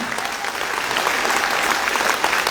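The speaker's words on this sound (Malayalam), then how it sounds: "അദ്ദേഹത്തിന് മനോഹരമായ കൈയടി നിങ്ങൾ കൊടുക്കണം." An indoor audience at a company business event claps steadily throughout, a dense, even wash of many hands at moderate loudness.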